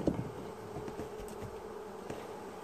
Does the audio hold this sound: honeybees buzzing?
yes